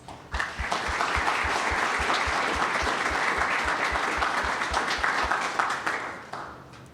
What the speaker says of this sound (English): can you raise your hand so we can give you a round of applause?